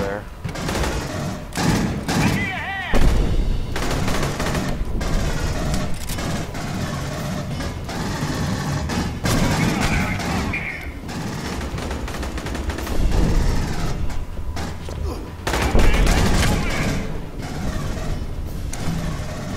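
Rapid gunfire and bursts of machine-gun shots from the shooter video game Aliens: Colonial Marines, with loud, dense volleys and thuds that run almost continuously under talk.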